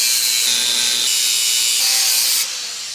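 A power sander works over the metal of a Big Tex utility trailer's coupler, a loud, continuous, hissing grind that holds steady and drops in level near the end, with no talking.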